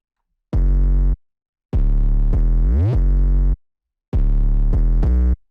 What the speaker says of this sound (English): and the 808 sounds like this.